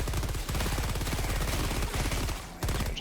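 Sustained rapid automatic gunfire in the video game Helldivers 2, a loud, dense, continuous rattle of shots with a brief break near the end.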